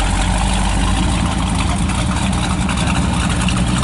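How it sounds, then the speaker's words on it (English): A 5-window coupe with a 409 engine and baritone exhaust idles close by, a loud, deep and steady rumble with no talk over it. "I'll call that a baritone exhaust"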